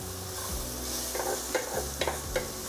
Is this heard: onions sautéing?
yes